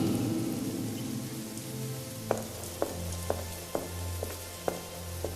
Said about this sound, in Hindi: तेज बारिश हो रही होती है।